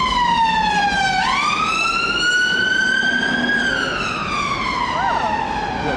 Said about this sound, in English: Just keep driving in front of the ambulance.